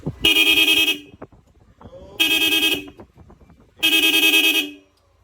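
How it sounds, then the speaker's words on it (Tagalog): A Yamaha Aerox V3 scooter horn sounds in three loud, close blasts, each about a second long. Clicking and switching noises fill the gaps between the blasts. "Then merong rapid, then switch, trigger horn, then rapid."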